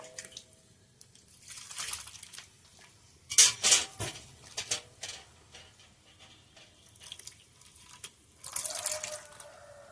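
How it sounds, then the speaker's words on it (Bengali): Grated potatoes are swished and rinsed in a bowl of water for Bengali banana flower kofta, with irregular sloshes, drips and light clinks of the bowl coming in close bursts between quieter pauses. "আলু কদ্দুকস করে নিয়ে ধুয়ে নিতে হবে।"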